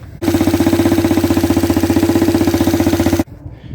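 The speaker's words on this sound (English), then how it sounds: "here you can see is a fully running 350cc motorbike" A 1936 Matchless G3 350cc single-cylinder motorcycle engine starts and runs for about three seconds with a steady, rapid thumping beat, close and loud, then cuts off.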